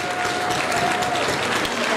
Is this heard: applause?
yes